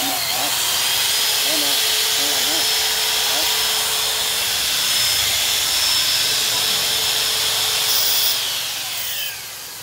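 A Japanese-market 100V, 430W power tool cutting, with a loud steady hissing whine that runs continuously and then drops off near the end, while someone talks over it.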